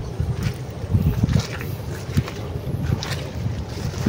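Wind buffets the microphone beside open water near a boat, a rough low rumble with gusting swells throughout and no talking.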